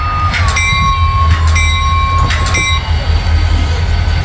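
A circus train in a Roblox train simulator game rumbles past with a loud, low, steady drone, while thin metallic wheel squeals whine in repeated bursts above it.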